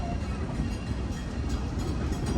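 Amusement park train ride at Six Flags in the Dallas–Fort Worth area, a steady broadband rumble of rolling wheels and rail noise, continuous and fairly loud with no pauses.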